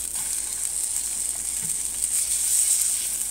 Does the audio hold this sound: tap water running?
no